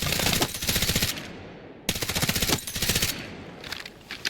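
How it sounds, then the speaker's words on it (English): Two loud bursts of rapid automatic gunfire from a weapon in Battlefield 6, each lasting about a second with a sharp, steady rhythm, separated by a short pause and followed by fainter trailing shots. "So what you want to do to counter bloom is burst fire."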